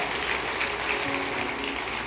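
A church congregation applauds in a continuous, dense wash of clapping with a slight peak early on, steady and fairly loud throughout the short stretch.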